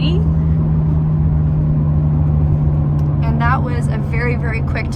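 A 2022 Hyundai Elantra N pulls away hard under launch control, its engine droning loudly from inside the cabin as someone speaks over the steady roar.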